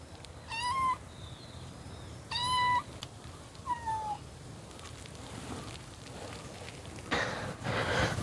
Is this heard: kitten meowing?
yes